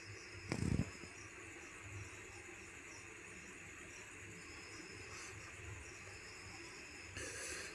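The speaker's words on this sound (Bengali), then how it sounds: "এবার সবগুলো ভেজে নিচ্ছি।" Pieces of food frying in a pan with oil, a steady soft sizzling hiss throughout with a brief louder clatter near the start, no talking.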